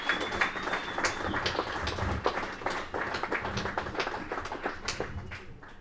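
A small crowd at a British Surfing Cup event claps in a sustained but modest round of applause for the local Perth surfing community, with distinct individual claps at moderate distance.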